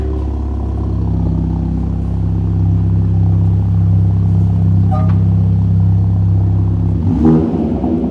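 A 2021 Mini Cooper S F56 with its muffler deleted idles loud and close in a steady deep droning rumble, then gives a brief rev near the end.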